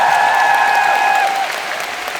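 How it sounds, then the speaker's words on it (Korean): Festival crowd applauding a performer at an outdoor music festival, a loud, even roar of clapping with sustained tonal notes from the stage fading out partway, the applause thinning slightly toward the end. "세번 씨한테 박수 한번 부탁드립니다"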